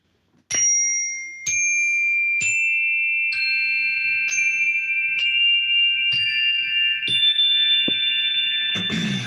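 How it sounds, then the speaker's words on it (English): A Zen wooden bell is struck with a mallet about nine times at an even pace, each clear ringing tone overlapping the last and rising slightly in pitch, close and loud with no talking. "This is a Zen wooden bell or a mallet, basically."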